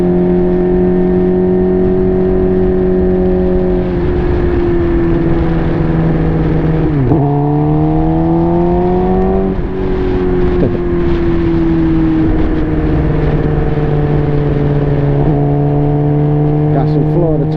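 A Yamaha R3 motorcycle engine holds a loud, steady high drone while riding city streets. It shifts pitch mid-run as it revs and settles again, with wind rush throughout.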